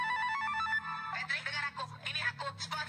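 A telephone rings with a repeating electronic tone at first, then voices talk over it, the ringing continuing beneath the speech.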